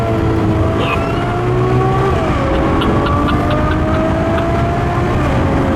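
A car engine pulls hard and climbs in pitch, drops briefly at a gear change, then accelerates again inside a tunnel, loud and steady with a boomy, enclosed echo.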